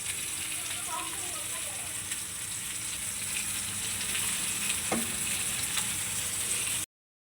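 Green chilies and onions fry in hot oil with a steady, close sizzle and gentle crackle, a single utensil tap partway through, and a faint voice at the start.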